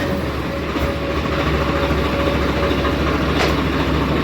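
A Swaraj tractor fitted with a silencer runs at a steady idle, giving an even, muffled low rumble with a faint rattling clatter throughout, close and moderately loud.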